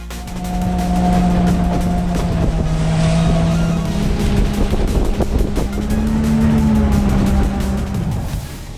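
An electric boat with yacht-like hull lines moves through water with a loud, continuous rush of water and wind noise and a steady motor hum, and no talking.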